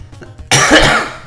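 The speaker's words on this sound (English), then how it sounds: "I'm sorry I'm coughing so much, guys." One loud, harsh cough bursts out close up after a moment of quiet.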